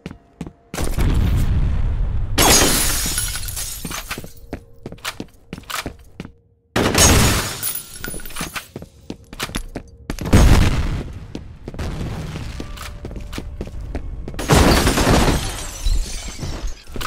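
Several heavy grenade blasts in the shooter game F.E.A.R. Combat, each a loud booming burst with shattering debris that decays over a few seconds, spaced through the stretch with smaller impacts and gunfire between them.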